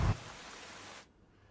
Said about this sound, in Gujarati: ખેડાના કપડવંજમાં વિરામ બાદ ધોધમાર વરસાદની શરૂઆત થઈ